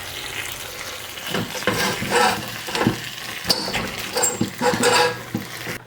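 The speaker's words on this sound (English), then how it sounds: "And let's try with the metal spoon." A metal spoon scrapes and stirs crispy rice stuck in a clay pot, giving repeated gritty, crackling scrapes close up, alone and irregular in rhythm.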